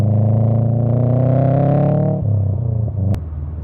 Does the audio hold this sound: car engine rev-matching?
yes